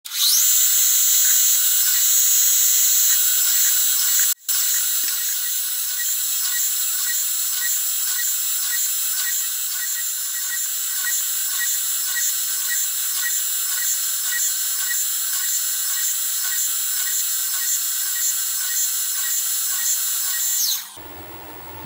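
A machine drills a series of holes for a homemade barbecue burner, producing a loud, steady high-pitched whine that runs for about twenty seconds with one brief interruption before stopping abruptly.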